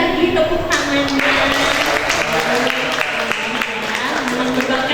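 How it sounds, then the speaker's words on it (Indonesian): An indoor audience at a talk event about a photo book by children with disabilities claps continuously and steadily, a dense wash of applause filling the room with voices murmuring underneath. "boleh dong sekali lagi tepuk tangannya"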